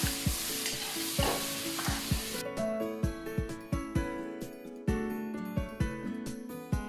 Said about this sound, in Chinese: 沿锅边淋入调好的对汁，炒出锅气，用大火翻炒均匀即可出锅。